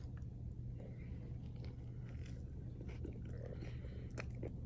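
Biting and chewing into a steak burrito with no beans, close soft crunching and squishy mouth sounds repeating over a steady low hum of a restaurant.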